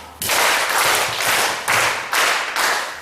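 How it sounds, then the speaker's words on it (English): Audience clapping at a talk on child abuse prevention, heard as a few loud, dense bursts of hand claps in quick succession, close and without speech over them. "let's give that clap"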